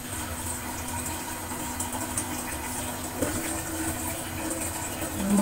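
Water pours steadily into a soup pot for an apple soup with dates, a continuous rushing fill at close range with no talk over it.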